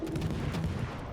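Naval guns fire in the World of Warships video game, dense booming shots with low rumbling thuds layered over steady background game noise throughout, no voices.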